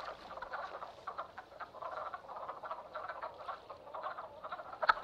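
Springtime frogs in the Shenandoah region croak continuously in a dense mating chorus, overlapping pulsing calls at moderate distance and fairly faint, with no voices.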